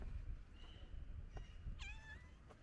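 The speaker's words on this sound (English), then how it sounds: "here's another cat" A street cat in Istanbul's old city near Aksaray gives a short, faint, rising meow, heard outdoors over low street rumble.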